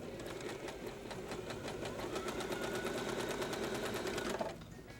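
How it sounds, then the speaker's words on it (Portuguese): A sewing machine stitching patchwork fabric for a table runner, a fast steady mechanical rattle of needle strokes running continuously for several seconds before stopping abruptly near the end. "Então, vamos costurar aqui, sempre segurando a linha."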